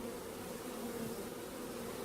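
Honey bees hum around an open four-frame nuc box in a steady, close, continuous drone with no voices.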